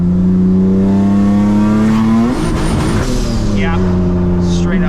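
Turbocharged V6 engine swapped into a Honda Civic, about 600 horsepower, revving hard and steadily while brake boosting. A loud, continuous harmonic drone rises and falls in pitch, with a brief hiss partway through and talk over it.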